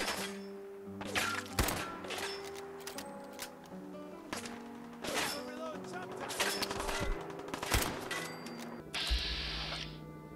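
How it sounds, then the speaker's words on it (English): A machine gun turret in Fallout fires repeated sharp bursts and thuds at the Corvega assembly plant, with steady heavy gunfire spread across the clip and a continuous background hum. "so there's a machine gun turret right here."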